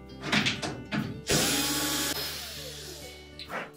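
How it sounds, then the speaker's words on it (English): A power screwdriver or drill backs out screws holding the back panel support to the main top of a Whirlpool washer, one sustained whirring run of about a second after a few short bursts, close and loud. "removing a couple of screws that secure that back panel support to the main top"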